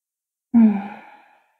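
One deep, audible exhale during a yoga session, close and alone, tapering off over about a second in an otherwise silent room.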